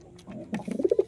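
A male pigeon gives a close, clear cooing call, a short rising run of soft throaty coos that grows louder toward the end.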